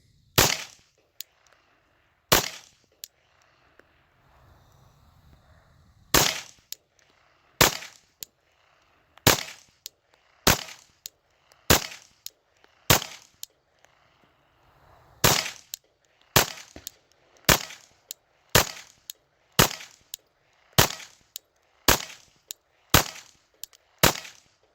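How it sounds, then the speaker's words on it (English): Glock pistol with Magpul magazines fired one-handed at practice, about twenty sharp, loud shots in uneven bursts: a few spaced rounds, a pause, then rapid strings, with faint rustling between them. "And practice the one-handed shooting."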